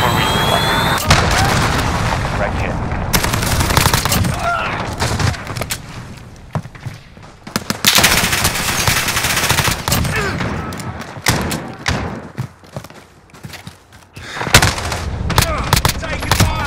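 Rapid gunfire bursts and explosions from a Call of Duty: Modern Warfare team deathmatch fill the scene, loud and dense with sharp volleys, brief lulls, and radio-style voices talking over the battle.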